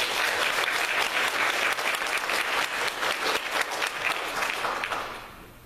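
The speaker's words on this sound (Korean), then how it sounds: "우리 박수로." Congregation in a Korean Presbyterian church claps steadily for newly ordained deacons, a dense, even wash of applause that holds for several seconds before thinning and fading at the end.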